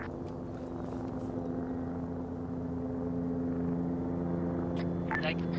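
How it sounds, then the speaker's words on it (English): A helicopter approaches in a military shooter game, a steady rotor drone gradually growing under quiet background sounds and faint voices. "All squads, helos sound coming from the east."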